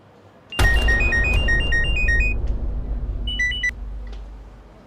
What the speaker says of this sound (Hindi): मैं कब से आपको कॉल कर रही हूँ, आप मेरा फोन क्यों नहीं उठा रहे?